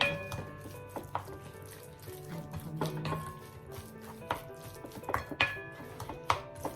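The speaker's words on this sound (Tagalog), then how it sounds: "I always use a spatula and a chopstick" Ground meat filling for Filipino lumpiang shanghai is mixed in a bowl with a spatula and chopstick, giving irregular knocks, scrapes and clatters against the dish, close and fairly loud, with no talking.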